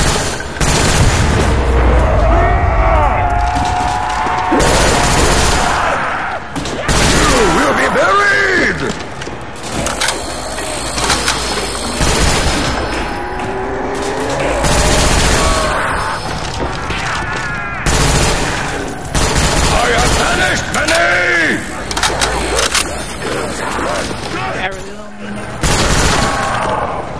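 Thompson submachine gun firing in Call of Duty: Black Ops, dense bursts of gunfire and booming explosions throughout, loud and continuous amid game effects.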